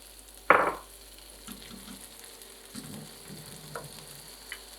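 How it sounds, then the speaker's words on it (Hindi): Mixed vegetables being lightly fried in a pan, with one sharp sizzle followed by soft, scattered stirring and frying sounds, faint and close. "बस हल्का सा फ्राई करना है"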